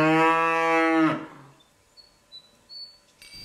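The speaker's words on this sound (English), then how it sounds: "taking care of our 13 happy, healthy cows" A cow at a Tibetan Buddhist nunnery near Dharamsala gives one long, loud, close moo lasting about a second, then falls quiet while faint bird chirps sound in the background.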